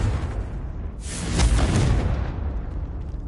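A Confringo fire spell blast in Hogwarts Legacy, a single broad whooshing burst that swells and fades over about two seconds, loud and alone.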